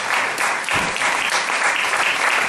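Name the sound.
church congregation applauding and cheering for the Lord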